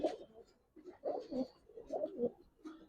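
Giribaz pigeons coo softly and close by, with a sequence of low, rolling coos repeating across a few seconds.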